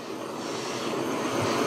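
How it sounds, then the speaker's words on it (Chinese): A torch flame roars steadily while singeing hair off a pork elbow, a continuous close broadband rush with no pauses and no talk over it. "我烧一下，给这肘子稍微烧一下，"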